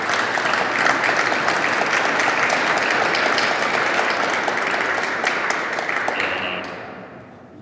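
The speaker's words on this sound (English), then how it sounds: "I want to give a round of applause for the witnesses" An audience at a Senate briefing breaks into sustained clapping, a dense, even round of applause that fades away toward the end.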